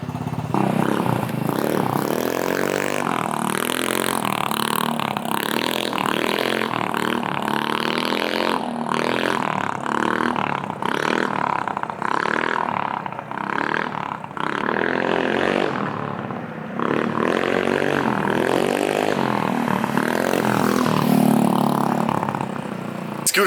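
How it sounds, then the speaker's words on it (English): A TaoTao GY6 scooter fitted with a new exhaust rides past, its engine buzzing and revving in rising and falling surges, loud and close, with rattling clatter throughout. "But the exhaust sounds really good."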